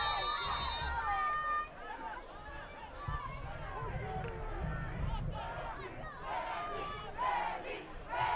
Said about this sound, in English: Crowd's chanting Randy's name